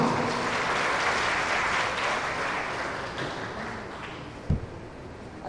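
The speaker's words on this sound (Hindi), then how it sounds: "भरपूर तालियां" An audience at a school results ceremony claps steadily for a top-scoring student, a dense sustained wash of applause that eases slightly toward the end, with one sharp nearby clap or knock near the close.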